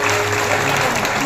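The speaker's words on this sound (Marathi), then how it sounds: "एका टाळी वाजून अभिनंदन करू" An audience at a temple anniversary celebration with a spiritual discourse breaks into brief, dense clapping that sounds steady and full, with a faint voice murmuring underneath.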